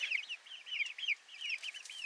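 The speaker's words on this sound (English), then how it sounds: "I'm gonna get some really pretty chickens out of this bunch." Americana chickens in a mixed flock of young birds cluck and chirp in quick, repeated bright calls, close and steady throughout with no talking.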